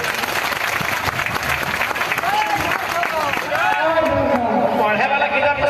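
A crowd at a local welcoming gathering breaks into loud, sustained clapping, dense and continuous, while voices and whistling-like tones rise over it in the second half.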